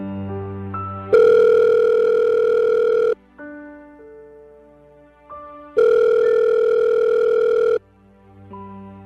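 Telephone ringback tone while calling a mother, two long steady tone bursts about two seconds each with quieter background music between them, loud and close.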